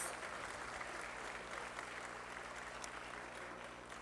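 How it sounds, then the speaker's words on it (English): Applause for the winners at a national marketing conclave, a soft, distant wash of clapping with a low steady hum beneath, continuous for a few seconds. "Please give a huge round of applause for the winners."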